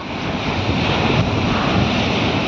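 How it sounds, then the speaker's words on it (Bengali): Ocean waves crash and surge onto the shore in a loud, continuous roar, close and heavy, with strong wind buffeting throughout and no voices. "প্রায় কাছে চলে আসছিল এই ঢেউটা"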